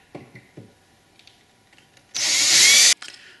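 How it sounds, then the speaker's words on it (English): A short burst of power drilling through metal with a 1/8 inch bit, under a second, loud and close, with a few light knocks and handling sounds before it in an otherwise quiet space. "I can drill now all the way through. I'm going to use a 1/8 inch bit"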